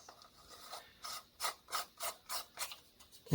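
Cover being screwed onto the rear housing of a Zebco 99 spincast fishing reel, a series of about eight short rasping, ratcheting turns in a steady rhythm, close up and alone, ending in a louder knock.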